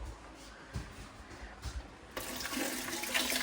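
Hot tap water starts running and gushes steadily after a few soft knocks and handling sounds, close and fairly quiet.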